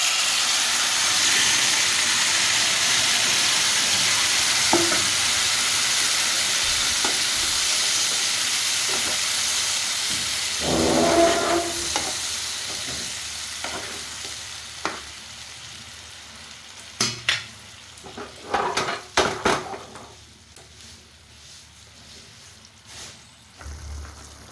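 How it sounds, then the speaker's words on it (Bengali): Marinated paneer pieces fry in hot oil with a loud, hissing sizzle that slowly fades, followed by scattered clatters and stirring knocks near the end. "ওই তেলের মধ্যে দিয়ে দেবো পনিরের ম্যারিনেট করে রেখেছি সেই পনিরটা।"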